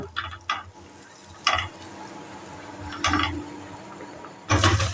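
Potatoes dropped into melted butter with a little cumin seed sizzle quietly in a pan, with several short bursts of clattering and stirring over a low frying hiss.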